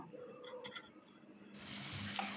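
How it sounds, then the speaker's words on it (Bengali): Large prawns frying in hot oil with turmeric and chilli; a loud, steady sizzle bursts in about halfway through and keeps hissing to the end, after quieter kitchen noise. "এখন আমি চিংড়ি মাছটাকে বেজে নেব"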